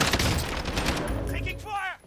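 Rapid automatic gunfire rattles in Call of Duty Warzone, a close, dense burst that fills most of the moment before a brief voice cuts in at the end.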